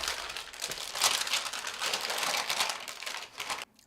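Parchment paper is peeled open from a block of frozen date caramel, close crinkling and rustling in uneven bursts for a few seconds before it stops.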